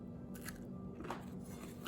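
A bite into a crunchy fried chana dal fritter (ambode), a few soft close crunches and chewing sounds, faint and quiet with no talking.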